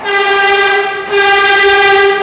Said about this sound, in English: I think the train's here.